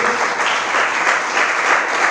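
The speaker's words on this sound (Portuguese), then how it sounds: "Vamos aplaudir nosso Deus." A church congregation claps loudly and densely, a thick continuous wall of close, energetic applause with no pauses.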